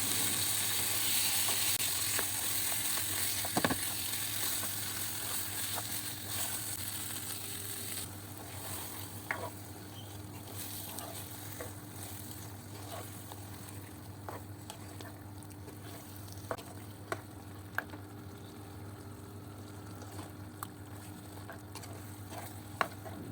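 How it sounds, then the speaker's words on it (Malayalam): Chicken and masala fry in a pan for a chicken curry, giving a soft, close sizzle with occasional light clicks and scrapes of stirring, quiet and continuous with no talk. "ഈ മസാലയും ചിക്കനും എല്ലാം കൂടെ ഇളക്കി നന്നായിട്ടത് പിടിപ്പിക്കണം."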